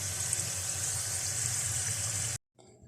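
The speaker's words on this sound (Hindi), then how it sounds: "तो बहुत अच्छे से हमारे रिंग रोल फ्राई हो चुके हैं। अब मैं एक एक करके इनको निकालूंगी।" Ring rolls stuffed with qeema frying in hot oil, a steady close bubbling sizzle that cuts off abruptly, followed by a quieter, patchier fizz as the pieces are lifted out.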